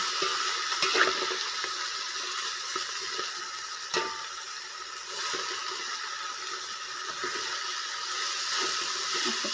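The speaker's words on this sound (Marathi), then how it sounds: "असं थोडं थोडं परतून हलवून घ्यायचं." Food is sautéed and stirred in a pan, a steady sizzling hiss running throughout with occasional light scrapes and knocks of the stirring utensil.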